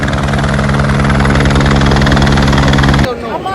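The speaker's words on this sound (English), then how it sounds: "All right, the helicopter is coming." Helicopter near the Kedarnath mountains, a loud steady rotor thump and droning engine hum up close, running continuously before dropping off abruptly near the end.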